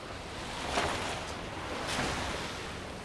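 Water from a buried London river rushes steadily beneath a street drain cover, a constant broad hiss and gurgle heard alone at a moderate, slightly distant level with faint swells.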